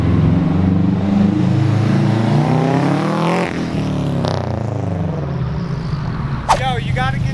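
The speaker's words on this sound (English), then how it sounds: "This alleyway is the best sounding for the Subaru rumble." A 2004 Subaru STI with anti-lag rumbles and revs through an alleyway, a loud, steady exhaust drone with pitch sweeps as it passes close by, a sharp pop near the end, and voices over it.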